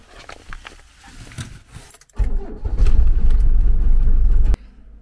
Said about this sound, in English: I did feel kind of bad starting the engine in that residential area at 6 o'clock in the morning.